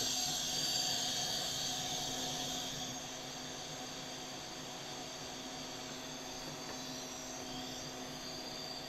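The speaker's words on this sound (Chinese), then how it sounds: "我们首先呢，先要把气瓶里面的气全部放完" Gas hisses steadily from a cylinder through a valve as the pressure bleeds down toward zero on the gauge. The sound is louder for the first few seconds, then settles into a quieter, constant rush.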